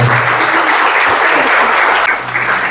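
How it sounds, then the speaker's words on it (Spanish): A church congregation breaks into loud, sustained applause after a sermon, a dense wash of many hands clapping at once that holds steady throughout, with a brief dip near the end. "Damos un fuerte aplauso por la palabra de Dios"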